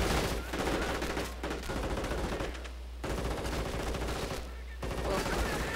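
MP44 assault rifles fire in a wartime video game battle, rapid loud bursts of automatic gunfire with short gaps between volleys, close and dense over a constant low rumble.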